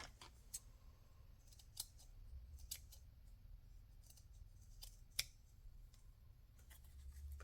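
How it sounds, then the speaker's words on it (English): Scissors snip a flower off a soft fabric applique, a series of faint, crisp close cuts spaced irregularly over a low background hum, no talking. "I can cut that flower off."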